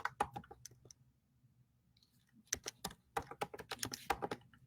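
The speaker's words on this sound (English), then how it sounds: "I'm just typing it in here" Typing on a computer keyboard, with a quick burst of close key clicks, a pause of near silence, then a faster, denser run of tapping.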